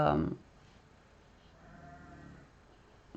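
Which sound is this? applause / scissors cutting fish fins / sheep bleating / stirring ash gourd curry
sheep bleating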